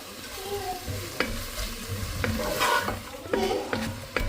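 Frozen tomatoes sizzle in a hot pan with onions, with a steady low frying hiss under repeated scraping stirs of a spoon against the pan, close and moderately quiet.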